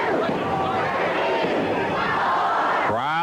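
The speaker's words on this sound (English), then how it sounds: "Crowd counting along." Loud crowd at a 1985 Memphis wrestling TV bout, a dense roar of voices chanting and cheering along throughout, close and steady, with a sharp tonal shift near the end.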